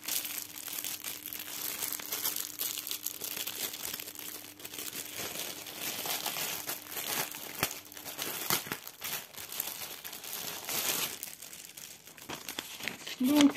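Plastic packaging on a DIY cross stitch kit crinkles and crackles as it is opened by hand, with soft, close rustling that continues for several seconds and no voices.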